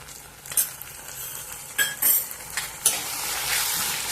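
An onion mixture with chili powder sizzles steadily in a pan for a moth bean curry, with several sharp spoon scrapes and clinks as it is stirred close up.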